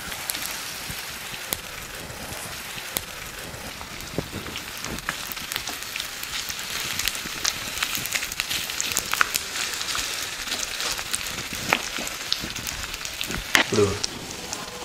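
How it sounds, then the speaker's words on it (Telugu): Chopped onions fry in hot oil in a pan, a steady close sizzle and crackle with scattered pops over about fifteen seconds, the hiss building slightly as it goes. "ఇప్పుడు కట్ చేసి పెట్టుకున్న ఉల్లిపాయ ముక్కలను వేస్తున్నాను."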